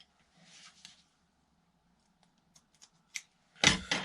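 Scissors snipping waxed cotton cord for slingshot bands, a few faint close clicks and rustles, then two sharper crisp cuts at the end, with no talking.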